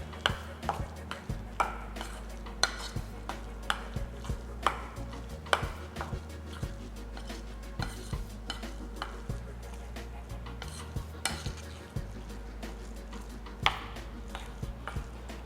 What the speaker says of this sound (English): Now you mix it.